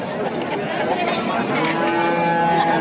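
Schwyz cattle lowing amid a busy, noisy livestock market in Kitob, Qashqadaryo, Uzbekistan, with a murmur of people in the background; the moos blend into steady crowd chatter.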